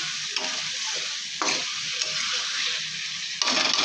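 Pointed gourd curry frying in a pan, a steady close sizzle broken by a few sharp scraping stirs of the spoon against the pan.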